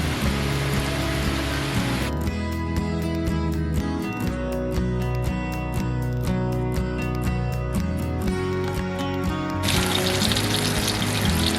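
Chicken pieces frying in hot oil, Taiwanese street-food style, a steady loud sizzle and crackle that runs throughout, with a thin clicking and bubbling texture that briefly eases in the middle before the full hiss returns.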